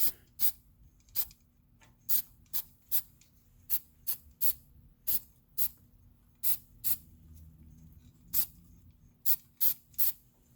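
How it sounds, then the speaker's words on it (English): An aerosol can sprays paint onto metal in many short, sharp hissing bursts, close up and spaced unevenly, over a quiet background hum. "block it out like so and just spray"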